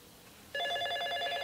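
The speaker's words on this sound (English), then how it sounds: "The phone is ringing." A cartoon telephone bell starts abruptly and rings in a bright, rapid trill, loud and close, with no voices over it.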